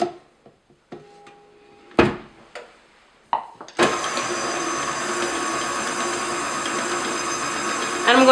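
After a few scattered knocks and clunks, an electric mixer starts whipping icing for champagne cupcakes. It runs as a steady, loud, close whir for several seconds.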